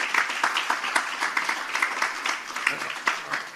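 A seated audience at a Ministry of Finance event on natural disaster fiscal risk in Jamaica applauds a World Bank vice president: steady, dense clapping with faint voices mixed in.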